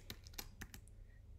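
Typing on a computer keyboard into a browser search bar: a handful of separate key clicks in an uneven rhythm, close and quiet over a low background hum.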